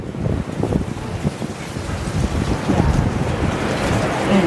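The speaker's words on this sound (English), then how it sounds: "It is so windy." Strong wind during a Los Angeles windstorm with blackouts, fires and fallen trees, roaring and buffeting the microphone in a continuous loud rumble that swells slightly toward the end, with voices faintly present.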